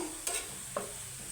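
A spice paste fries for beresta with a faint steady sizzle, broken by two brief stirring scrapes of a utensil in the pan, quiet and close.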